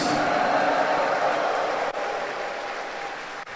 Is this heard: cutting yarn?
no